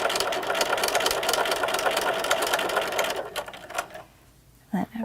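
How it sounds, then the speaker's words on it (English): Sewing machine stitching across the front of a fabric face mask, a steady close whirring run for about three seconds that slows, stops, and leaves only a couple of faint handling sounds. "we're going to sew across the front of the mask"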